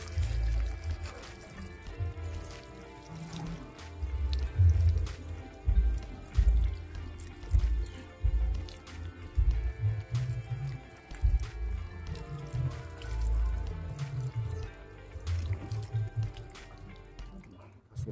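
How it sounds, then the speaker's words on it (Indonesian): Water is poured over the soil of a freshly replanted wild Javanese tamarind (asam Jawa) bonsai, giving soft, close splashing and trickling with scattered drips throughout, under a faint background hum. "Setelah kita siram air"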